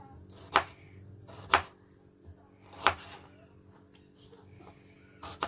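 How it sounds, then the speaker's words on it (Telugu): Onions are cut with a knife for pakoda, giving three sharp, distinct chops against a board at irregular intervals, followed by a few fainter taps in a quiet kitchen. "నేను ఒక పక్క ఆనియన్స్ కూడా కట్ చేస్తూ ఉన్నాను"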